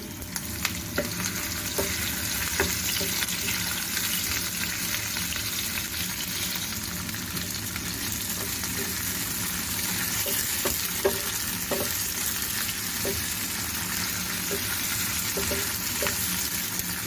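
Baguio beans sautéing with fried pork, a steady close sizzle throughout with scattered clicks and taps of a spatula stirring in the pan.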